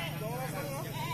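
Sheep bleat continuously at a livestock sale where goats and sheep are being traded, wavering cries mixed with busy crowd noise and people talking loudly over them.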